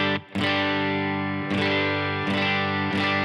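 Sustained electric guitar chords ring out through a Matchless amplifier, strummed in a few long, full strikes with a bright, fairly clean tone and no voices.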